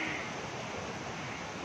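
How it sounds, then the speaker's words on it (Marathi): Savatsada waterfall near Chiplun in Maharashtra during the rainy season, heard as a steady, dense rush of falling water from a short distance, continuous and unbroken. "परत एकदा मी तुम्हाला धबधबा दाखवते,"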